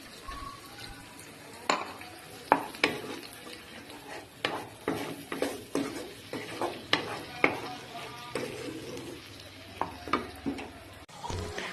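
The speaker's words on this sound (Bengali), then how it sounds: "একটু বেটে রাখা কাঁচা পেঁয়াজের পেস্টটা দিয়ে আবার একটু খুব ভালোভাবে নাড়িয়ে চাড়িয়ে কষিয়ে নেব।" Raw onion paste and masala being stirred and fried for a Bengali prawn malaikari, with repeated scraping strokes of a spoon against the pan over a steady soft sizzle, close and fairly quiet.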